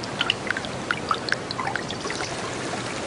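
Water drops plop one after another from melting ice in early spring, a scattered run of small, close drips over a soft steady trickle.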